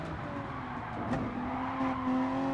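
A race car engine drones steadily in the Gran Turismo Sport racing game, with an opponent's car running close behind and a faint wind-like rush over the engine tone.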